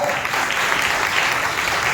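A church congregation at a Palm Sunday service claps loudly and continuously, a dense, even roar of many hands with no gaps.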